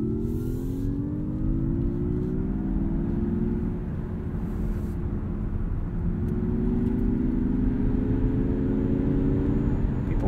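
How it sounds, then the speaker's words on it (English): 2022 Mazda MX-30 EV Premium Plus electric car accelerating, its rising electric motor whine sweeping upward in pitch over steady road and tire rumble, heard from inside the cabin and fairly loud. "Let's see what acceleration is like."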